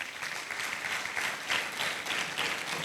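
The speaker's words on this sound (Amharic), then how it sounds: "አጨብጭቡ ለእግዚአብሔር" A church congregation claps together in steady, dense applause that stays full and even throughout.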